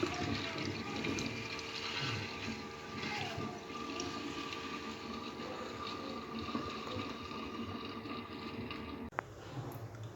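Water gushes and gurgles continuously into a clogged kitchen sink as liquid drain opener is poured in, a steady close rushing sound with a brief knock near the end.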